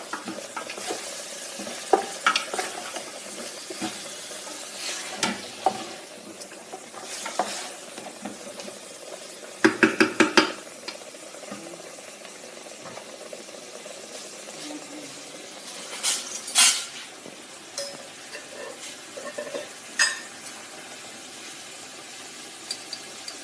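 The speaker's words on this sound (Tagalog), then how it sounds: "Make it saute. When all the aroma is inside the meat, then I will put the grind tomato." Beef sautés in a pan for stew, a quiet continuous sizzle broken by occasional stirring scrapes and a brief cluster of utensil clinks against the pot.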